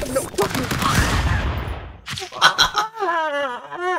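Minigun fire in the video game Stick Fight: a dense, rapid burst of gunfire lasts about two seconds and then cuts off, followed by excited talking.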